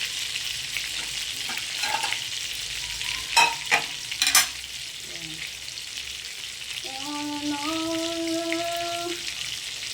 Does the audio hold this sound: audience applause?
no